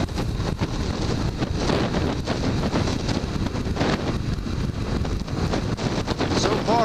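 Strong wind on an extremely windy day buffeting a moving rider's microphone, a continuous loud roaring rumble with gusty fluctuations and no pauses.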